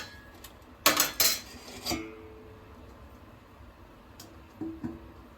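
A lid clatters onto a metal cooking pot of South Indian sambar with vegetables and chilli, two sharp loud clanks followed by a lighter knock and a couple of softer taps later, in a quiet kitchen.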